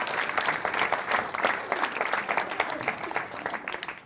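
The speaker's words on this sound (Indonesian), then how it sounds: "Beri tepuk tangan dulu." Audience applause at a stand-up comedy show, dense and steady clapping from a crowd throughout, fairly loud and close, with a voice faintly under it.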